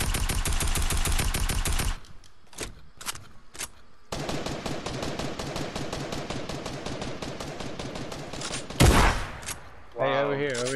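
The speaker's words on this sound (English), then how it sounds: "Point where y'all are shooting at or whatever." Gunfire in Fortnite, with dense rapid bursts of automatic shots, a short pause broken by a few single shots, then another long loud stream of fire. A voice briefly breaks in near the end.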